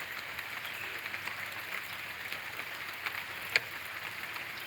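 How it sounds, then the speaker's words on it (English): Steady rain pattering on a roof at a historic birthplace site, a continuous soft hiss of drops with a few sharper isolated taps, fairly faint and even throughout with no talk. "with all the rain and the pitter patter exactly"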